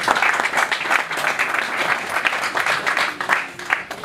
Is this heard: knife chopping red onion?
no